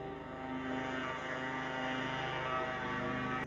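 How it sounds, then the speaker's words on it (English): A lawn mower runs somewhere outside in the background, a steady droning hum at low level that holds on without a break for the whole stretch, with no one talking. "I sincerely apologize if you can hear in the background someone mowing their grass."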